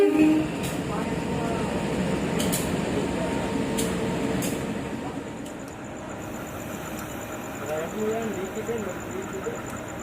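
Railway cars at an Indonesian station rumble and clank as a locomotive is uncoupled, with a low mechanical roar, sharp metallic knocks and a faint high tone, while people talk nearby.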